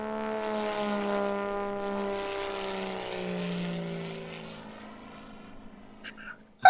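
Airplane flying, a steady engine drone with a slowly falling pitch as the aircraft passes and recedes, fading out gradually before a brief louder thump at the very end.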